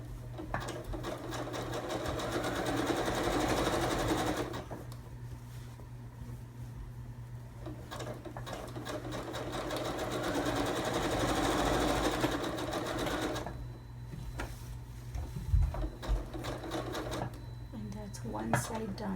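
A sewing machine stitches cushion cover fabric in long, steady runs. Its rapid mechanical whirr is broken by short pauses, with hand handling of the fabric between runs.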